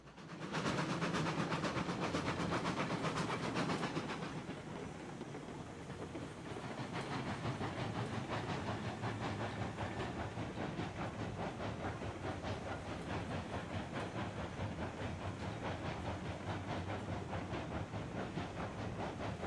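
A steam locomotive runs in the Railroads Online train game, pulling a long train of cars with rhythmic chuffing, hissing steam and clickety-clack wheels. The sound is loud and continuous, with a brief dip partway through, and nobody speaks.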